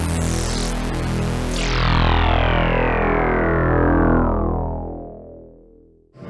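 Oberheim OB-X8 analog synthesizer sounding a big sustained chord with a bright sweep that slowly closes down and fades out, rich and loud, with no talking.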